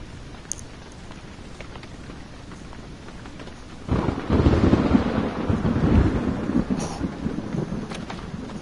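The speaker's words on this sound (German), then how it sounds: "Also ich könnte jetzt hier nicht unterscheiden, ob dieses Gewitter im Spiel stattfindet oder in echt." Thunderstorm ambience in the horror video game Blair Witch: a steady wash of rain and rumble that swells into a louder, deep thunder roll about halfway through and lingers to the end.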